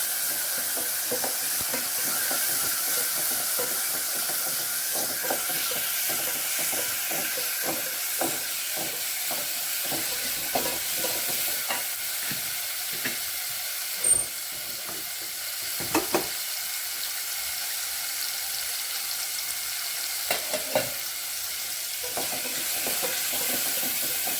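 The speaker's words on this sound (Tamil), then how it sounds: "நல்லா வதக்கிக்கலாம்" Steady frying sizzle in a pan with occasional scraping and stirring clicks, a constant hiss running throughout with no talking.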